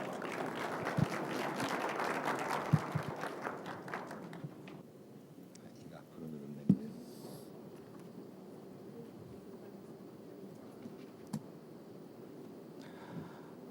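An audience at the opening of the 2025 Smart Green Energy Shipbuilding and Marine conference applauds to welcome a late-arriving speaker; steady clapping fills the first few seconds, then fades to room noise with scattered claps and a few knocks.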